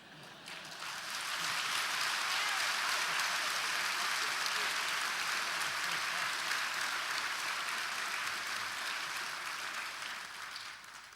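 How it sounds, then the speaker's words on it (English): A graduation ceremony audience applauds in a hall, a sustained wash of clapping that swells in after a second, holds steady for about ten seconds and tapers off at the end. "I'm not sure it deserves applause, but we take what we get."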